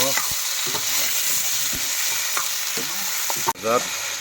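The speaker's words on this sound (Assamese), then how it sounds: "কড়াই ভাজি আছোঁ বৰ্তমান মই মাংস।" Steady loud sizzle of pork frying in a wok, with repeated scraping clatters of a spatula stirring throughout and a brief sharp knock near the end.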